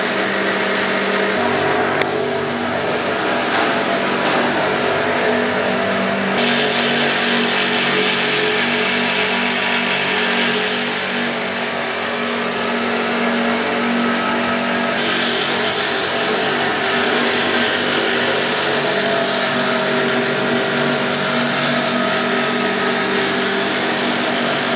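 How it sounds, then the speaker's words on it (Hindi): A tyre buffing machine grinds an inflated tyre to prepare it for retreading, a loud, steady motorized whine with a harsh abrasive roar that runs continuously, close and unbroken throughout. "हाँ, अभी ये टायर बफिंग हो रहा है।"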